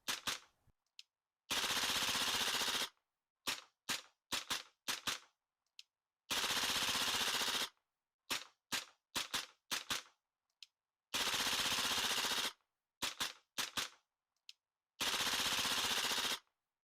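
Several gas blowback airsoft SMGs fire in turn, each alternating long full-auto bursts with rapid single shots, loud and close, with silent pauses between strings.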